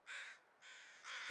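Crows in The Long Dark survival game caw in three loud, harsh calls separated by short pauses, close by and clear with no talk over them.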